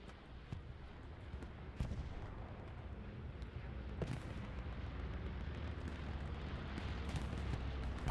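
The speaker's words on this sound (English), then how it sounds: "Bombing run coming in from Omen." Bombing run explosions in a competitive 49 vs 49 Hell Let Loose match on the SMDM map: a few dull, distant blasts at fairly low volume rise over a steady rumbling battlefield roar.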